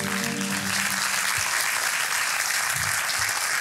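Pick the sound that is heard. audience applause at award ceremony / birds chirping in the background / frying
audience applause at award ceremony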